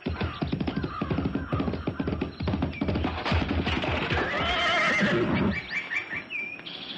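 A horse whinnies amid a busy, clattering scene, with rapid hoofbeats thudding beneath, loud and close, before the commotion fades out.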